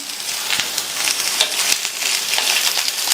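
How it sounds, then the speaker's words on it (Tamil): Potatoes and green beans sautéing in hot oil, giving a steady close sizzle with light crackle throughout. "பீன்ஸை சேர்த்துட்டு இந்த பீன்ஸையுமே எண்ணெயிலேயே 2-3 நிமிஷத்துக்கு நல்லா வதக்கிக்கங்க."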